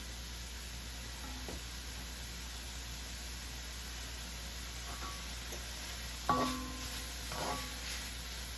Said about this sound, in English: we're just going to start getting these onions sauteed